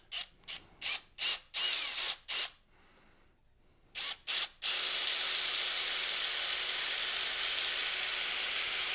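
A Forstner bit drills into a wood blank on a lathe to make a whistle, starting with a string of short whirring bursts, then settling into a loud, steady, continuous drone.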